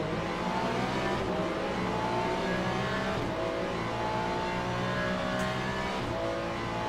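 Race cars and hypercar engines in Le Mans Ultimate roar together at a racing start at Imola, a dense, steady engine drone with revving and cars sweeping past, continuous and loud throughout.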